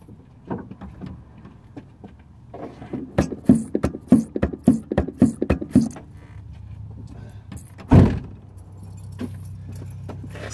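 A clutch pedal on a 2007 VW Rabbit with a cracked, leaking master cylinder is pumped repeatedly, giving a quick series of close, soft thumps and clicks followed by one louder knock.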